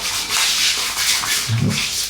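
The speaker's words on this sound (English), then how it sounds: "I'm just going to rub that on the face" Wilkinson Sword Sensitive shaving soap being rubbed directly onto the face as a pre-shave, a close, steady scraping rub with a slightly thicker swipe near the end.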